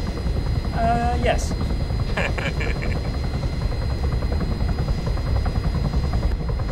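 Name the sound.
helicopter (Little Bird) flying in a video game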